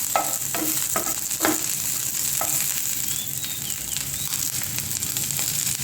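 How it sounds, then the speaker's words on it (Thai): Garlic fries in rendered pork fat, a steady bright sizzle filling the background while a utensil scrapes and stirs the pan in a few quick strokes; close up, with no one speaking. "อันนี้กระเทียมเจียวกับมันหมู เจียวน้ำมันค่ะ"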